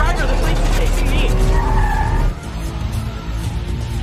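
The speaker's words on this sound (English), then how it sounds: "now it just keeps speeding up. I can't stop the car." A car speeding during a police pursuit, its tires skidding and squealing in a loud, sustained roar that cuts abruptly to a lower rumble of motion, close and dense with no clear voices over it.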